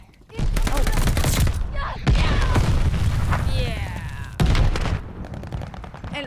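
RPG rocket launcher fire and explosions in the Call of Duty Vanguard video game, three heavy booming blasts with rumbling tails and gunfire crackle, loud and close, with a voice speaking briefly over the chaos.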